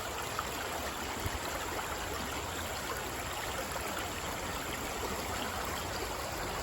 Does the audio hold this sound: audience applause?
no